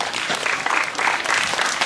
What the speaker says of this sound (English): open your eyes to a big round of applause